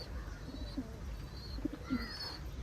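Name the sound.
pigeon cooing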